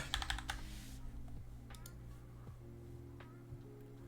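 Rapid clicking of computer keyboard keys as a short word is typed into a search bar, a quick burst at the start followed by a few scattered faint clicks over a steady low hum.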